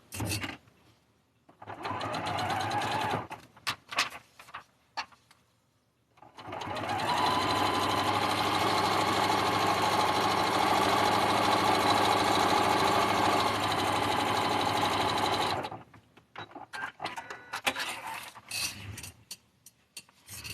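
A sewing machine runs steadily for about nine seconds while stitching a seam, its mechanical whir loud and close, with short bursts of machine noise and handling before and after.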